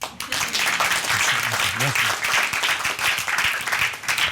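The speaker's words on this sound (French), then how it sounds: "Oui, vous pouvez l'applaudir." An audience applauds during a live science storytelling show, a dense crackle of clapping filling the whole stretch, with a voice speaking faintly underneath.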